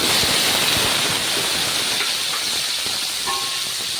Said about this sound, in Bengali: এই যে এখানে যে আলু আর মিষ্টি কুমড়োগুলো কেটে রেখেছি সেগুলো এখন তেলে দিয়ে দেবো